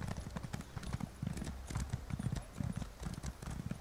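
Rapid rhythmic hoofbeats of a horse galloping in the video game Elder Scrolls Online, steady and prominent throughout, with low thuds and a faint background hum from PvP play in Cyrodiil.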